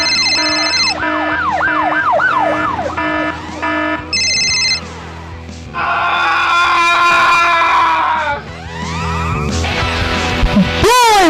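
People screaming in a played clip, loud and frantic, mixed with wailing siren-like sweeps and shifting tonal noise that swell and cut off in sections.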